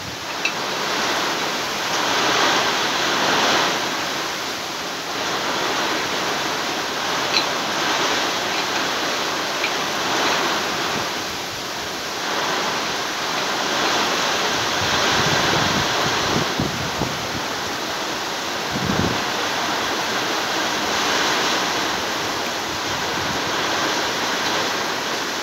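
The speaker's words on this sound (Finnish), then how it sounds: "Saattaa kaatamalla vettä ja ukostaa kovaa lää." Pouring rain during a heavy thunderstorm hisses as a dense, steady roar, with deep thunder rumbling low around the middle of the downpour and no voices.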